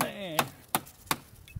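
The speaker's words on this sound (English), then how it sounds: "I figure why not come out here and chop a pallet up." A Hen & Rooster HR-007 knife with a 4-inch blade chops into a wooden pallet outdoors, giving three sharp, evenly spaced woody thwacks and a fainter fourth, with a brief tonal ring before the first.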